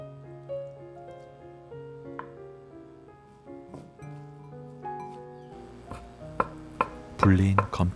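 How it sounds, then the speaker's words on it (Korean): A knife slicing soaked dried shiitake mushrooms into thin strips: a few crisp chops on a board come in near the end over soft background music. "불린 건표고도 얇게 포를 떠 채 썰고"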